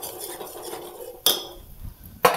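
Spice powder and salt are mixed into farsan, with soft rustling and scraping under a faint background hiss, then two sharp metallic clinks of a spoon against the bowl about a second apart, nearby and with no speech.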